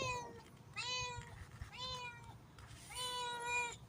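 A cat gives three distinct meows, evenly spaced and fairly close, each a drawn-out rising then falling call over quiet background hum.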